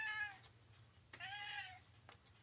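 A house cat meows for food, two drawn-out meows a second apart, close and fairly quiet against a soft low hum, with a brief click between them.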